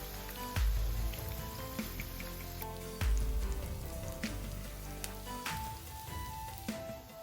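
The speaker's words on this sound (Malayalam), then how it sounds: "ഒരു മീഡിയം ഫ്ലെയിമിലിട്ടിട്ട് ഇതൊന്ന് ഫ്രൈ ചെയ്തെടുക്കാം" Masala-coated okra (vendakka) fries in hot oil over a medium flame, giving a loud, steady crackling sizzle that runs unbroken, with a couple of dull low thumps from the pan.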